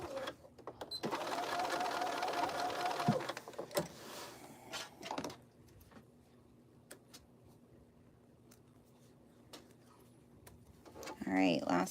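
Sewing machine stitching a casing, a loud whirring run of rapid stitches for a few seconds, then clicks and handling noises, with a brief burst of stitching again at the end.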